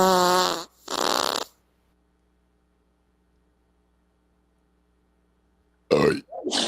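A burp, two short loud guttural bursts close to the microphone, followed by a long silence and then a brief noisy outburst.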